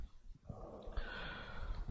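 A person draws a deep audible breath in before reciting the Quran, a rushing airy inhale building over about a second against faint background noise.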